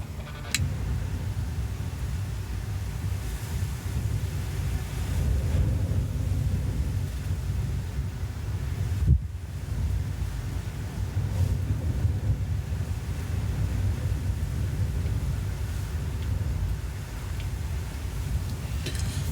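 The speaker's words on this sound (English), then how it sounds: "I just wanted to give you a moment on how it is up here with the wind." Strong wind buffeting a microphone on a windy hilltop in Spain, a continuous low roaring rumble with a sudden thump partway through, and no voices.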